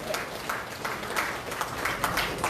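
Applause from the audience at a Liberty Korea Party provincial ceremony for appointment certificates, a steady wash of clapping from a moderate distance with no talk over it.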